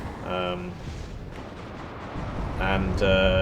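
Booming artillery barrages in the Cold War strategy game WARNO rumble as a continuous low wash, with a voice talking over the top at the start and again near the end.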